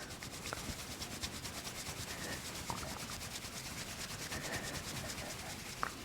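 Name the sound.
cupped hands rubbing ears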